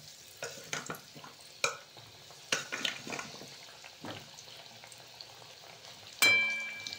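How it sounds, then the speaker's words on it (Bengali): Baby corn fried in hot oil in a wok: a quiet, intermittent sizzle with scattered scrapes and clicks of a stirring utensil, ending in one sharp ringing metallic clang near the close. "তেল তো গরম হয়ে গেছে, এবারে কর্নগুলো ভেজে নেব"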